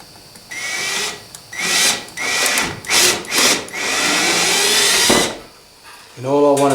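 A 4mm drill bit bores through plastic toward a timber beam on a Walthers 12-stall model train roundhouse, the drill whining up in several short bursts with pauses, close and loud.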